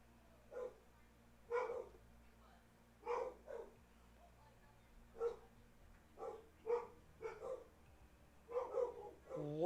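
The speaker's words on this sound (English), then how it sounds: "The dogs are going crazy." Several dogs bark and yip in short irregular bursts inside a house, fairly close and loud, with a person's voice mixed in among the barks.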